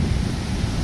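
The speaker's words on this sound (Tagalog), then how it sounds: "Ayan, mahangin." Steady wind gusting by Manila Bay along Roxas Boulevard at night, a continuous low roaring rush that stays loud and even throughout the short stretch.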